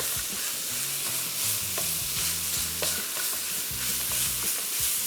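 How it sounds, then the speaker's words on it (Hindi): Minced meat qeema fries in a hot pan as a spoon stirs it, giving a constant sizzling hiss with repeated scraping knocks against the metal, close and loud with no talking. "तो इसको फ्राई करते जाएंगे, मिक्स करते गए।"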